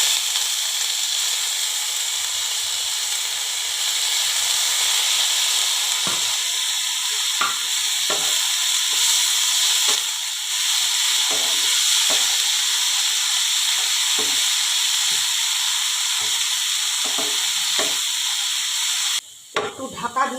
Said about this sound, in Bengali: হালকা করে একটু ভেজে নিতে হবে। এবারে আমি সজনে ফুলগুলোকে দিয়ে দিচ্ছি।